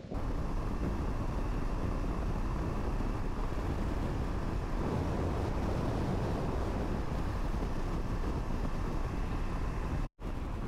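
Strong wind near Esperance and Cape Le Grand National Park, Australia, roars continuously and buffets the microphone, a dense rushing noise with no other sounds standing out.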